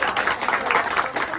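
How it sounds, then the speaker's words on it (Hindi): A short burst of audience applause at a crowded public gathering, dense, close clapping that fills the whole moment without a break. "जोरदार तालियां भैया आप सब"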